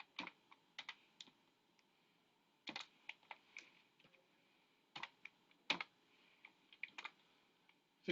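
Quiet bursts of rapid keystrokes on a computer keyboard as an equation is typed in, clustered clicks separated by short pauses, close and alone.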